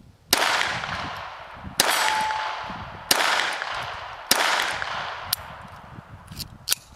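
A Jennings J-22 .22 pistol fires CCI Mini-Mag rounds: five loud, sharp shots at roughly even intervals of just over a second, each followed by a ringing decay, with no talking.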